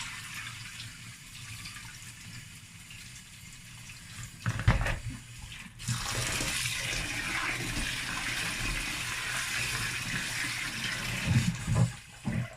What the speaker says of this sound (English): So you just want to make sure you rinse it properly. Just take out the remaining or any excess.